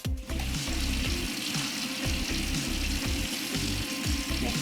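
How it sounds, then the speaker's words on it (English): Steady running tap water splashes close up while hands are washed at a sink before cooking, continuous hiss with slight rhythmic sloshing. "We always want to make sure we wash our hands good before we start cooking."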